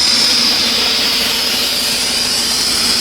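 A 502 big block Chevy engine runs a pull on a DynoJet dyno, a loud, sustained roar with a steady high whine and no talking, continuous and unchanging across the short stretch.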